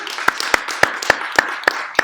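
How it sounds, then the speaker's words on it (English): Audience applause in a meeting hall, a steady wash of clapping with one sharp, evenly spaced clap standing out nearby about every quarter second, moderately loud throughout. "thank you for the applause"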